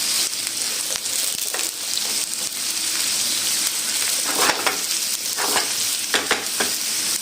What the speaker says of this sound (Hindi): अब हम इसमें आलू ऐड कर देंगे। और मिक्स कर लेंगे।